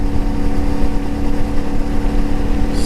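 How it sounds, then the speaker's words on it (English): Loud, close, uneven burble from a CFMoto Ibex 450 adventure motorcycle engine running hot and prone to sputtering; a continuous rough low rumble with fluttering pulses and no speech. "the burble is worse when the bike is nice and hot"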